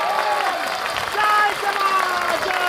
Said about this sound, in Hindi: इसी बात पर ठोको ताली एक बार कस के।